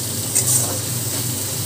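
A soft sizzle with light stirring as spices are sautéed with teasel gourd in a pan, a steady frying hiss with a brief scrape partway through.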